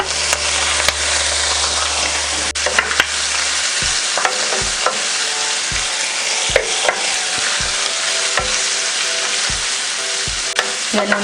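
Beef heart and kidney fry in a pan with a loud, steady sizzle, broken by repeated sharp clinks and scrapes of stirring, close up and with no voices.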